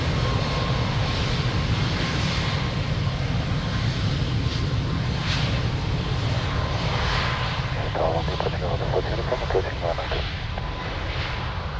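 A Ryanair airliner takes off at Lisbon Airport with a loud, sustained jet roar that stays broad and steady, while air-traffic radio talk and a commentator's voice run over it.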